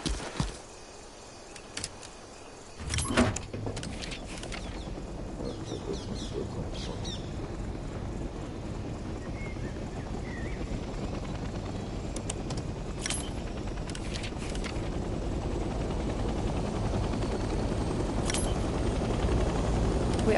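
A helicopter in the Vietnam-era game Hell Let Loose Vietnam starts up, its engine and rotor noise building from a quiet start into a steady, rising drone, with a few brief clicks and switch sounds early on.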